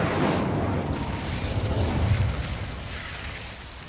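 Incendio fire spell cast in Hogwarts Legacy, a loud sustained whooshing burst of flame with a low rumbling roar that swells around the middle and slowly fades, no talk over it.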